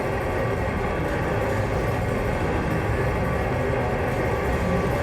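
A heavy door grinding open in the SCUM survival video game, a loud continuous low mechanical rumble that runs unbroken through the whole stretch with no talk.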